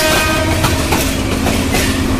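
Brahmaputra passenger train hauled by locomotive 2910 pulls out of Dhaka's Airport station in the evening, heading toward Tongi. A loud, close, continuous rumble of rolling cars and wheel clatter runs through the clip with no voices.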